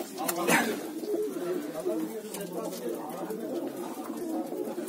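Pigeons coo and murmur continuously close by in a coop, with a person talking over the birds.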